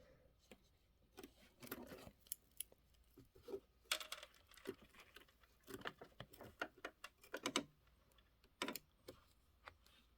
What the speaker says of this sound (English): Trim the fabric close to the stitch line.